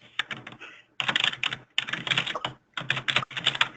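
Bursts of rapid typing on a computer keyboard during a work call, clattering keystrokes in four clusters separated by brief pauses, fairly close and steady, with no talk over them.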